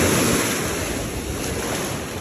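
Sea waves wash continuously onto a hot Israeli beach, a dense, close roar of surf with steady wind noise on the microphone and no voices.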